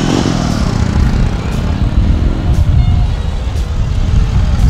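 A motorcycle engine runs close and loud, a steady low idle rumble with a few faint ticks over the top and no talking.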